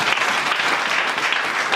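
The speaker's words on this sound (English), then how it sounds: "Let's clap our hands for Jesus." Church congregation clapping hands together at a Sunday service, a loud, dense and steady wash of many hands filling the room throughout.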